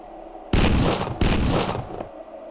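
Two loud, close shotgun blasts from a super shotgun in a horror video game, about half a second apart, each a sharp boom with a decaying tail and no talk over them.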